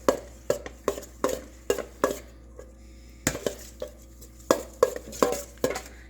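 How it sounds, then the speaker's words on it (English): A spoon or whisk scraping through chocolate mousse mixture in a bowl, giving a series of close, sharp clinks and scrapes in an irregular rhythm, with quiet pauses between strokes and no talking. "Let's mix this together."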